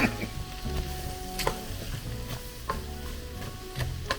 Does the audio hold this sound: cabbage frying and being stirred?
yes